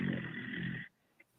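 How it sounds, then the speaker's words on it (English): A man snoring while asleep during a Zoom court hearing, one long raspy snore heard alone through a laptop microphone, then cutting off into near silence with a small click. "He's snoring all over the judge."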